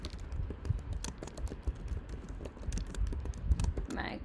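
Code being typed on a computer keyboard, a fast irregular run of soft clicking keystrokes at close range, steady throughout with no speech.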